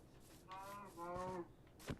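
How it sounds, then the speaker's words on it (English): Minecraft cow lets out two drawn-out, nasal moos in quick succession, fairly clear against a faint game background, with a brief noisy burst at the end. "Oh, a cow!"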